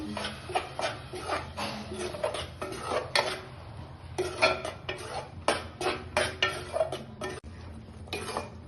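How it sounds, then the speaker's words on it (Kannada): Ground tomato being stirred into paneer masala in a pan, with irregular clinks and scrapes of a metal spoon against the pan in quick bursts, close and fairly quiet. "ಮೂರು ಟೊಮೆಟೊನ ರುಬ್ಬಿಟ್ಕೊಂಡಿದ್ದೀನಿ ಇವಾಗ ಇದಕ್ಕೆ ಹಾಕ್ತಾ ಇದ್ದೀನಿ ಇದನ್ನ ಮಿಕ್ಸ್ ಮಾಡ್ಕೋಬೇಕು"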